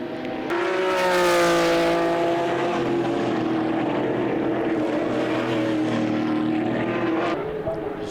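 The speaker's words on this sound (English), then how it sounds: "Look at the way these WA muscle cars just scamper for traction in comparison to the Porsche out front of Tim Wolfe, the 991." Race cars at a WA Sporting Car Club round, with V8 muscle cars chasing a Porsche 991, roar past in a loud continuous pack, engines revving hard and shifting, with a Doppler sweep early on, crowd-free and without talk.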